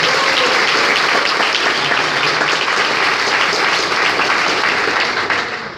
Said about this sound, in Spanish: quisiera que le diéramos un fuerte aplauso a Carlos y a toda la gente que hizo esto posible